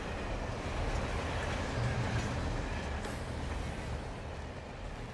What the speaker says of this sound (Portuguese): Olha o comboio, olha.